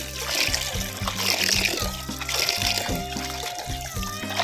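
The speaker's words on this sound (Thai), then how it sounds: "ก็จะล้าง ล้างเกลือออกให้หมดเลยนะคะ น้ำแรกเนาะเราจะทิ้งไปนะคะ" Water runs and splashes steadily as salt is rinsed off pickled spider flower leaves by hand, a continuous close trickle and slosh with a low hum underneath, no talking.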